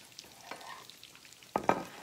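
Gluten-free funnel cake batter fries in hot oil with a soft, steady sizzle, close by and fairly quiet, broken by a couple of sharper pops and stirring clinks near the end.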